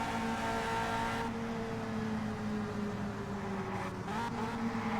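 Race car engines droning steadily at high revs in Indianapolis 500 Evolution on the 1966 Trenton 100 oval, a constant loud engine note with pitch shifting slightly as cars run close together.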